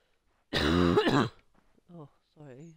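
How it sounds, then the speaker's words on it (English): A man in the horror game Maid of Sker clears his throat with a loud, rough burst, then gives a few short, weaker coughs and throat noises close by. "I've got a bit of a cough."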